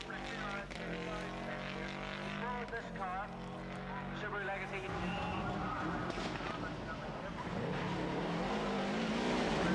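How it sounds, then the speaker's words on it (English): An old Subaru rally car racing around the park rally course at Lurgan Park, its engine revving and shifting up through the gears as it accelerates, moderately distant under a narrator's continuous commentary. "Kenny McKinstry, back in his old Subaru with its new owner Tom Spence alongside him, sets out on another bid to win this high-profile crowd pleaser."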